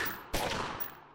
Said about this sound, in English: I'm going to move here, then aim and shoot